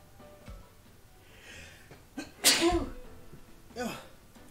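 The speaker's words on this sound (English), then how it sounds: "I have to sneeze." A single loud sneeze bursts out over quiet game background sounds during a Digimon Survive live stream, followed by a short vocal exclamation.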